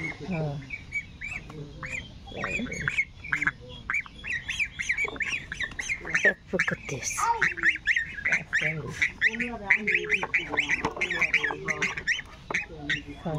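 Chinese ducks kept on a home poultry farm squawk and honk repeatedly in a busy, overlapping chorus, close and fairly loud, with chickens nearby.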